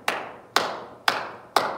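Four evenly spaced, crisp hand claps ring out about half a second apart, each a sharp, close slap with a short decay in a quiet room.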